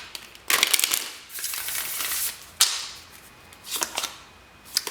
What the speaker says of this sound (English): Pile number 4, one more shuffle.